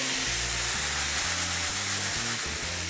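Diced vegetables and peas sauté in a pan for a frittata, giving a close, steady sizzle throughout with no talk.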